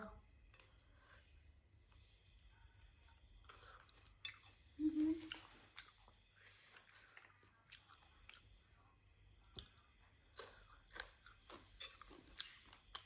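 Crunchy chewing while eating Thai pounded shrimp with rice noodles late at night, soft close-up bites and crunches scattered over a quiet background, with faint voices now and then.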